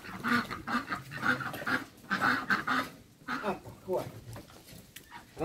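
Domestic ducks are fed in an enclosed pen, with repeated nearby quacks and squawks mixed with someone talking and calling to them.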